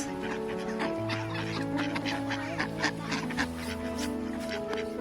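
Ducks and geese in a park crowd around while being fed biscuits, with a busy overlapping chorus of quacks, clucks and honks close by, plus faint voices in the background.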